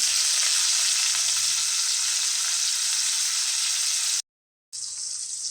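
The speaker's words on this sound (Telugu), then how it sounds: "సన్నగా తరిగిన పచ్చి ముక్కలు వేసి ఎర్రగా వేపుకోవాలి" Finely chopped onions frying in hot oil with curry leaves and chillies, a steady loud sizzle that cuts out briefly near the end before resuming, with no talking.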